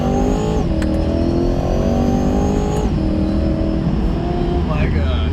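Supercharged Chevrolet Corvette with a ProCharger blower revs hard under acceleration, heard loud from inside the cabin as the engine climbs through gears with sharp pitch drops at each shift, while people talk over it.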